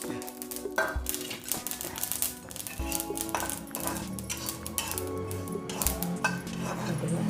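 Dry-roasting poppy seeds with coconut pieces and coriander seeds in a pan over a low flame, heard as steady clinks and scrapes of a metal utensil against the pan under a constant tonal hum.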